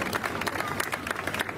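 An outdoor crowd at a holiday tree lighting claps in warm applause, dense and steady throughout, heard from within the audience.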